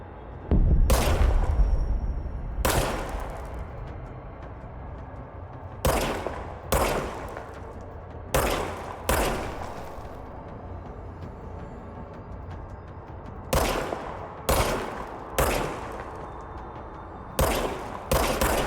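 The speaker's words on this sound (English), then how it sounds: "Fire service weapon." Service weapon gunfire in the video game Control: about a dozen sharp, loud single shots in irregular clusters, some paired in quick succession, with quieter background between bursts and no talk.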